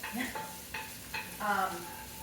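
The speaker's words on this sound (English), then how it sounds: "Getting our onion nice and golden." Onion sautés in a pan over turned-down heat, a gentle sizzle under irregular stirring clatter and brief utensil taps, fairly quiet and close.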